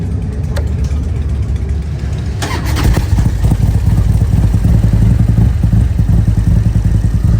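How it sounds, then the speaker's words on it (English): A motorcycle at Biketoberfest in Daytona Beach rumbles loudly up close, its engine catching and then running in a rough, low, steady idle with clattering mechanical noise throughout. "we need to get this bike started"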